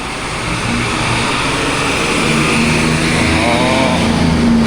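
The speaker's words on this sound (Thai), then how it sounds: "รถผ่าน" A loud engine close by as a vehicle passes on a Bangkok street near Wutthakat station, its droning hum rising and shifting in pitch over a steady road-noise wash.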